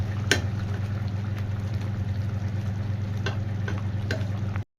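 Fish goes into a pan of spices fried in refined oil with panch phoron and boiling water, making a steady bubbling simmer with a few soft clinks, ending in a brief cutoff.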